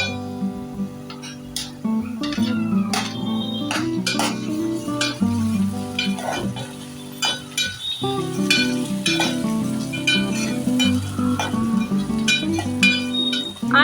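Tomatoes go into cooked onions frying for chole, bringing a busy sizzle with frequent metallic clinks and scrapes of a spoon against the pot, near and continuous, with no voices.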